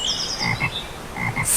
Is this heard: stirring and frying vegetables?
no